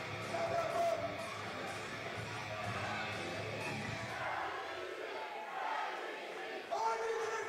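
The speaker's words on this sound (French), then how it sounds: "Et la foule là, qui crie calvitie." A wrestling crowd at a live event in Sainte-Anne-des-Plaines chants and shouts in a steady, loud roar, with a commentator's voice talking over it.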